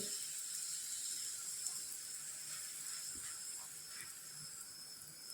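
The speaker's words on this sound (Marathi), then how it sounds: "आता दुसऱ्या साईडला भाजून घेते" A faint, continuous hiss and light sizzle of an aloo paratha cooking on a hot griddle, steady with no talking.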